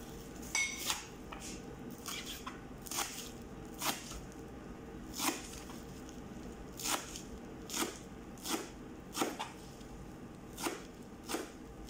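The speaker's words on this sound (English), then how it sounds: "hiwain natin ng maliit itong parsley" A knife chops parsley on a cutting board for fattoush salad, about a dozen crisp, evenly spaced cuts close up in a quiet kitchen.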